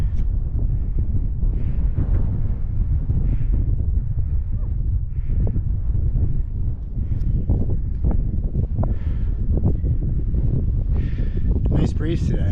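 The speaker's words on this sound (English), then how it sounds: "Nice breeze today. Not too windy" Breeze buffeting the microphone on a mountain trail up Mount Monroe in New Hampshire's White Mountains, a steady low rumble of wind gusts throughout, with footsteps and voices now and then underneath.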